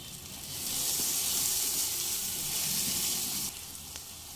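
Hot water goes into a pan of frying ghugni spices (coriander, cumin and black pepper powder), and a loud hiss rises at once, holds steady for about three seconds, then drops back to a softer sizzle.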